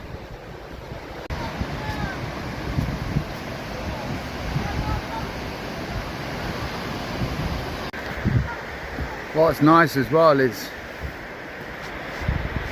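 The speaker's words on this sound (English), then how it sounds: "we've kind of like happened just to come across this waterfall by chance." Waterfall at Ingleton in Yorkshire, a steady rushing roar of falling water close by, running under intermittent talking throughout.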